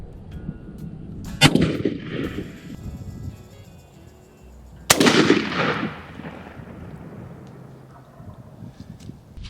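A shotgun fires TSS turkey loads at a pattern target outdoors. Two loud, sharp blasts a few seconds apart each boom out and fade into a rumbling echo, with quiet outdoor background between them.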